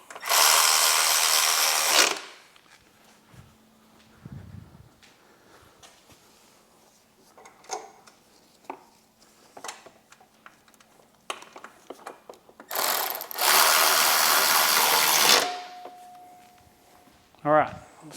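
A power tool whirs in two short bursts while bolts are tightened on the fuel tank mounts of a Harley-Davidson, with quiet clinks and handling noises in the pause between.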